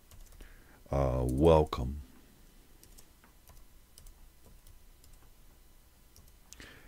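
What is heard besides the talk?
typing on a computer keyboard to rename a file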